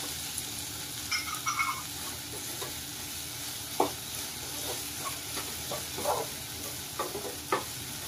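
Green chillies fry with ginger and garlic in a pan for paneer bhurji, a low, steady sizzle broken by sparse crackles and a few light stirring knocks.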